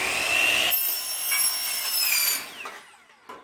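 A seamless rain gutter forming machine runs loud and near with a bright metallic grinding whine, then winds down and fades to quiet with a few faint clicks.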